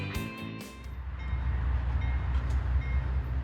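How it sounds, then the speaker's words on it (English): GE C40-9W freight locomotives in YN2 hockey stick livery working west on the CSX Cumberland Subdivision in Maryland, a deep, steady diesel rumble building after a brief opening burst of louder sound. "Powering west, sporting the YN2 hockey stick livery, these GE C40-9W locos were built in 1994 to C44-8W standard."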